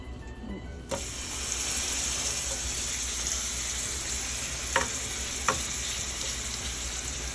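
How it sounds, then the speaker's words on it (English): Tri-tip beef hits hot oil in a skillet with a sudden burst into a loud, steady sear, punctuated by a couple of sharp clinks. "Grab my tri-tip, you guys. I'm gonna add it to the skillet."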